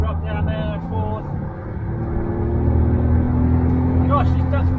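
A Smart Brabus Roadster's engine drops down into fourth gear, its hum shifting pitch and growing louder from inside the car, with a voice talking briefly over it.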